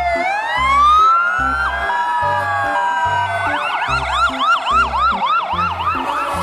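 A toy fire truck siren wails loudly, its tone sweeping up and down in repeated cycles over a steady electronic beeping pattern, with no voices present.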